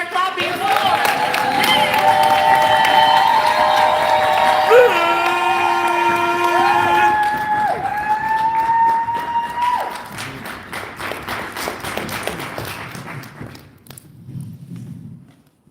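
An audience claps and cheers, with scattered whoops rising over a steady wash of crowd noise before it thins out.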